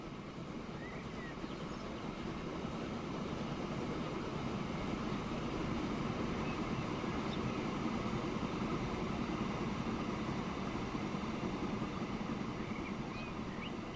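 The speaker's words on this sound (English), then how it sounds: "let's just chill out and enjoy the spectacle of our two new trains passing" Two trains rumble past each other in the Transport Fever video game, a steady loud rolling roar throughout with a broad noisy wash and no talk.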